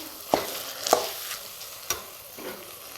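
Milk bread halwa stirred and sautéed in ghee in a pan, with a few distinct scraping stirs against a soft, steady sizzle, fairly quiet and close.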